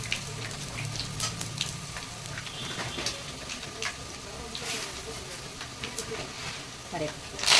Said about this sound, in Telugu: అది ఇంగువ కూడా వేసుకోవాలండి. ఎండుమిరపకాయలు కొద్దిగా వేసుకోండి.